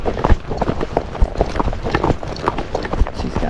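Hooves of a tired Tennessee Walking Horse on a trail ride, a quick irregular clip-clop of strikes close to the rider, with outdoor background noise.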